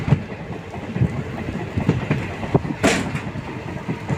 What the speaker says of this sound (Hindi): बड़े ही रफ्तार से ट्रेन भागती हुई जा रही है